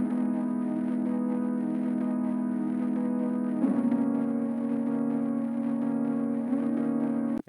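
A sustained synth pad from the second half of a house track chorus holds steady, dense chords alone, shifting once midway to a lower voicing before cutting off at the end.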